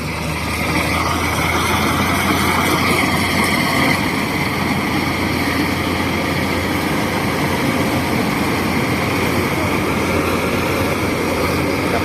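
Kubota DC-120X combine harvester with a 120-horsepower engine and 3-metre header working a rice field, a loud, steady broadband engine drone and machinery roar that holds unchanged throughout.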